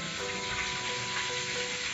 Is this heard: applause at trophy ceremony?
no